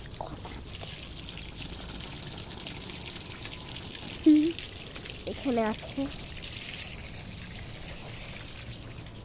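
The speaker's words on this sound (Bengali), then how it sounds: "এই যে আমার মাম্মি পানি দিয়ে দিচ্ছে" Water is poured slowly onto rooftop plants, making a faint, steady trickle under short bits of talk.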